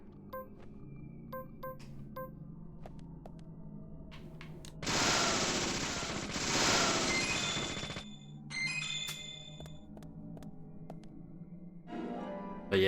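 Gunfire shooting boxes in Deadly Premonition: a dense, loud burst of shots and breaking crates fills a few seconds in the middle, framed by quieter game chimes and beeps, with no talk.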